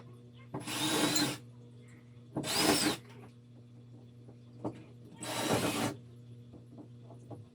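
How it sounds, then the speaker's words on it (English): A power drill spins through a hole for hanging a shelf in three separate loud whirring bursts, each about a second long, with quieter clicks and handling sounds between them. "I'm gonna drill through this hole."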